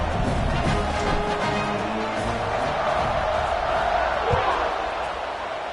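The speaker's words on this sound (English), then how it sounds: "this crowd is feeling themselves after that last drive" A football stadium crowd at a Georgia Tech versus Arizona State game roars in a dense, steady wash of cheering that holds at an even level throughout the few seconds.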